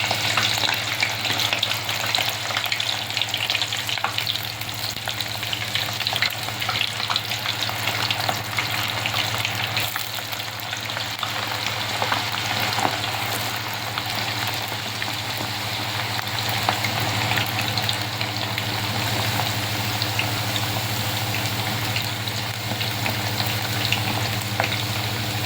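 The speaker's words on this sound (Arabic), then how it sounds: "بحمر البطاطس الاول" Potatoes fry in hot oil for homemade hamburger sandwiches, a loud, continuous sizzle and crackle that runs unbroken from start to finish.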